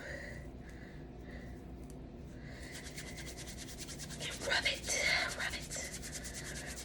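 Soft rubbing of hair locs against each other, a steady faint brushing that swells louder for a few seconds near the end, with no talking.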